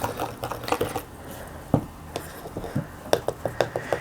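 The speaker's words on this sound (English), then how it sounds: "And give it a good stir" A spoon stirring a solution in a container during a classroom settling experiment, with quick clinks and taps against the sides, one sharper knock near the middle and a steady run of close clicks at the end.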